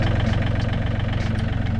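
A tractor engine idling close by, a loud steady low rumble with a regular chugging pulse throughout, no voices.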